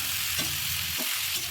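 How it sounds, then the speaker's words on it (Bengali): Small-cut potatoes stir-fried with spices for a tripe curry give a continuous close sizzle, broken by a few soft scraping strokes of a spatula against the pan. "এখন আমি এখানে কেটে রাখা ছোট ছোট করে আলু এগুলোকে দিয়ে নেব এবং এগুলোকে ভালো করে এই মশলার সাথে কিছুক্ষণ কষাতে থাকবো"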